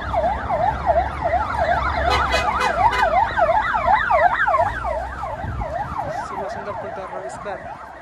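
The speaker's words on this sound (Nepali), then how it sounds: "ऊ एम्बुलेन्स आयो" An ambulance siren wails in a rapid rising-and-falling pattern as it passes along a busy city street near Hanuman Dhoka in Kathmandu, loud at first then fading, over road traffic rumble.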